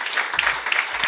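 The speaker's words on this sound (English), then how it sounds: "please help me with a round of applause to thank all of our speakers" A burst of audience applause, many hands clapping together in a dense, even patter throughout.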